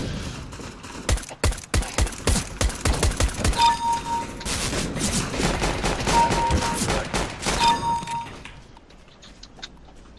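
Rapid bursts of Dual Berettas pistol fire in a CS:GO Arms Race deathmatch, sharp close shots in quick volleys with short pauses, later thinning into denser background game noise.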